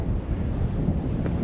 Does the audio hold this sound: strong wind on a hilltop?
yes